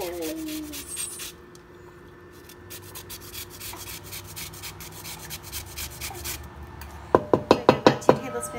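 A lemon is zested in a home kitchen with quiet handling noises at first, then a close run of about six quick, scratchy rasping strokes.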